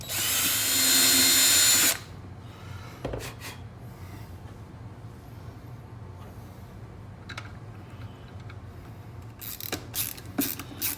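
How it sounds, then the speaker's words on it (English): A power drill drives screws while a Garmin Echomap 73SV display is mounted on a Bonafide SS127. One loud, steady whirring burst lasts about two seconds near the start, then fades to faint handling clicks and rustles. "now that I've got them all drilled"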